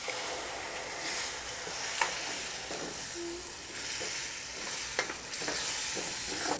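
Ground coconut, cashew and green chili paste gets stirred into frying masala for chana masala, a steady hiss and sizzle with a few scraping stirs of the spoon against the pan, no talking.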